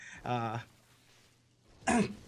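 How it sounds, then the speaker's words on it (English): A short throat clearing near the mic, a rough burst followed by a pause and a second brief clearing sound, with no talk in between. "Sorry, clearing my throat."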